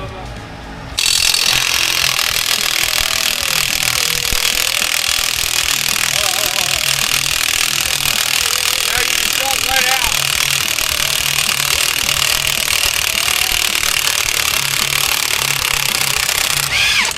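A loud continuous power-tool grind whirs as new threads are cut into a hole on a drift car, a Lincoln lowered on coilovers, running steadily for most of the span with faint voices underneath.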